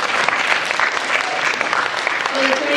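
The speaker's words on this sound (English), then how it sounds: "So actually a big round of applause for Thomas." Loud, continuous applause from a crowd, dense clapping filling the room without a break.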